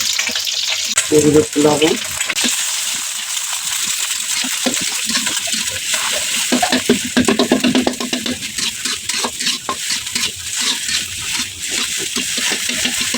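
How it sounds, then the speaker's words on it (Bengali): An egg frying in a pan, a loud, close, crackling sizzle that runs the whole time with bursts of spattering, while a voice briefly speaks near the start. "এখন আমি ডিমটা ভেজে নিব।"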